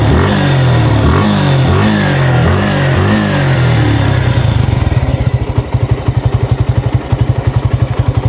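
A 2023 Suzuki Gixxer FI ABS motorcycle engine runs loud and close, first revving with a rising drone and then settling into an even, rapidly pulsing idle, with no one speaking.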